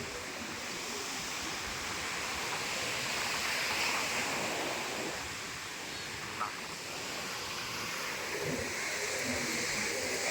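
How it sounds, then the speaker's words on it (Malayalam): Broad, steady wash of sea waves at Arikkal beach, a continuous surf roar with gentle swells in level, without distinct breaks between waves. "നല്ല തിരമാല കേട്ടോ, നല്ല തിരമാല"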